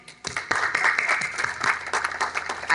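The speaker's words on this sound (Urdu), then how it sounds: "آپ کی بھرپور تالیوں میں" Audience applause at an Urdu literary tribute gathering welcomes a ghazal singer, a modest burst of scattered clapping from a smallish crowd, fairly close and moderately loud.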